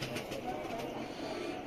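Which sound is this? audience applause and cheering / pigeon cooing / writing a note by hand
pigeon cooing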